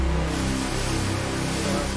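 Eight stacked, detuned synth waveforms slowly morph under an LFO, forming a thick, steady, buzzing drone that shimmers and shifts in tone without a break.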